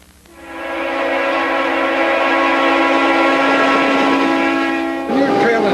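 A heavy 8,000-ton freight train travelling around 45 to 50 mph sounds one long, steady horn blast, loud and near, which cuts off into a lower rumble of the passing train.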